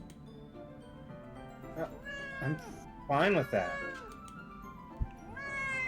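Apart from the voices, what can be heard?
cat meowing in Doki Doki Literature Club Plus video game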